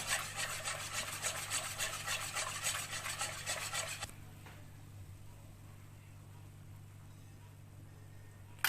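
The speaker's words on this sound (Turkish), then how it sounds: "iyice karıştırıyoruz eritiyoruz nişastayı." A spoon scrapes and stirs briskly around a pot, dissolving starch into milk for muhallebi kadayıf, a close rasping rub for about four seconds before it stops and a quiet background remains.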